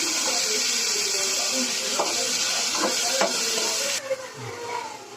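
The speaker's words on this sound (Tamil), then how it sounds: "நம்ம தக்காளியை கொட்டி வதக்கிக்கலாம்" Tomatoes sauté in hot oil in a pan for dry fish thokku, a steady broadband sizzle with a few stirring clinks, which drops off sharply near the end.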